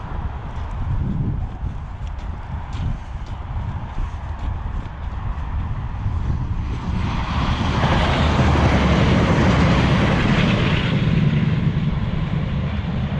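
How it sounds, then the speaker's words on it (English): A fast train approaches and rushes past through open countryside, its rumble building from a distant drone into a loud, broad roar that stays steady through the second half. "there's a train now"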